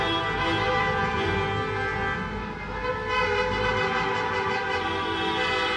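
Several car horns honk in a continuous, overlapping blare at 11 p.m. in Germany after a Turkey football win, held tones layered together at a moderate distance with traffic noise beneath.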